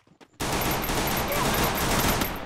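Rapid automatic gunfire in the Free Fire mobile battle game, a loud sustained burst of shots that starts abruptly after a brief quiet moment and continues without a break to the end.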